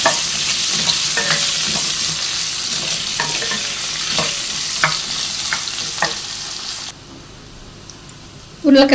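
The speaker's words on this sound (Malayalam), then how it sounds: "ഇതൊരു ചെറുതായിട്ട് ഗോൾഡൻ കളർ ആകുന്നത് വരെ നമുക്ക് എണ്ണയിലിട്ട് വഴറ്റിയെടുക്കണം" Potato pieces sauté in oil with cumin for an aloo pulao. A busy sizzle runs under repeated spatula scrapes, drops to a quieter hiss toward the end, then a final clatter.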